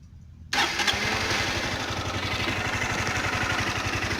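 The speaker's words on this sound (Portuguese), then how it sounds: "Tá a moto, vamos ligar ela, vamos ver se realmente tem esse barulho no motor." A Honda CG Titan 160 motorcycle, suspected of an engine noise, starts abruptly after a brief quiet moment and settles into a close, steady, rhythmic single-cylinder idle with no talking.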